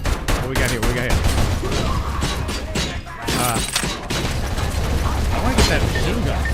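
Heavy continuous gunfire and mechanical clatter in the RoboCop video game, dense rapid shots layered over a rumbling game soundtrack, loud and sustained with a short lull midway.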